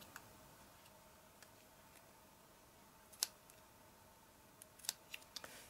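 Scissors snipping around the paw of a small handmade koala, a few faint, sharp clicks of the blades spaced irregularly, with a quick cluster near the end over quiet room tone.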